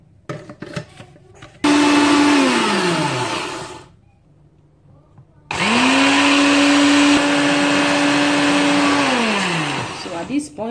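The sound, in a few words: blender blending parsley, lemon juice and water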